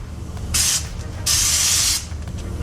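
A spray gun applies rust-protection coating to a Jeep floor in two close bursts of loud hissing, a short one followed by a longer one, with quiet pauses between them.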